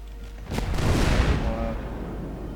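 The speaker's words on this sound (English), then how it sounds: "Shells incoming from an unknown ship." Naval artillery shells from an enemy warship in the Roblox game Naval 1918 land in a broad, rumbling boom that swells around half a second in and rolls on loud for the rest of the clip.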